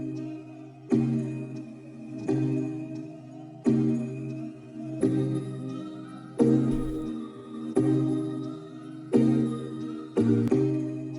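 Chopped halftime sample melody in a beat, looping tonal phrases that restart in rhythmic chunks about every one to one and a half seconds, steady and moderately loud with no talking.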